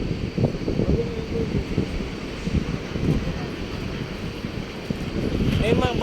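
Steady wind buffets the microphone with low rumbling gusts, continuous throughout, with faint voices in the background, outdoors at Intramuros, Manila.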